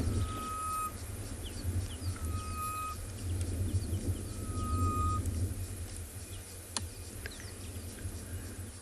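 A wild bird on a South African safari gives a few clear, whistled call notes spaced seconds apart, fairly distant, over a steady low vehicle hum and a constant buzz of insects.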